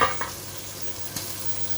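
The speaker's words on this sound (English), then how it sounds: "those sauces have been cooking for quite some time now" Bolognese sauces, including a vegetarian variant, simmering in pans on a stove, giving a soft, steady low hiss and bubble with a couple of faint utensil clinks near the start and middle.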